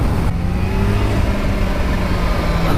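A supercharged 2019 Kawasaki H2 SX SE motorcycle engine holds a loud, steady mid-pitched drone close by, a sustained rev with a rising whine layered on top.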